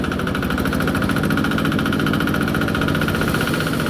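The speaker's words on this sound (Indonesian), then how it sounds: "Kita tarik gasnya. Usahakan kenceng Pak, karena ini mesinnya" A corn sheller machine's engine runs loud and close, a dense continuous roar with rapid rhythmic pulsing as the throttle is held open, steady throughout with no talk.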